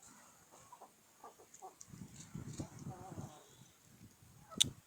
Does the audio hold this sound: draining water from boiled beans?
no